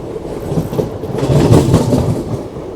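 A train rumbles past on the Guntur line near Tenali, a broad, rushing roar that swells toward the middle of the brief stretch, close by and loud, with no voice over it.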